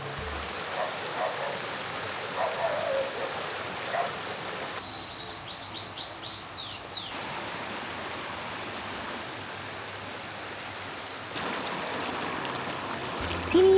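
Stream water flows past a riverside cafe in Chiang Rai, a steady rushing wash of water throughout, with a brief run of bird chirps partway through.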